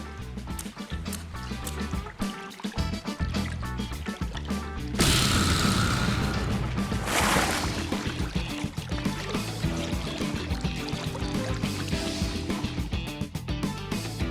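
Hot spring water flows steadily in Bleach Rebirth of Souls, a continuous pouring, splashing wash that grows louder and fuller midway before settling back to a steady trickle, with no talk over it.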